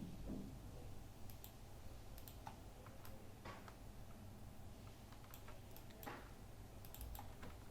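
Faint, sparse computer keyboard clicks from typing during Photoshop design work, irregular single taps and short bursts over a steady low hum.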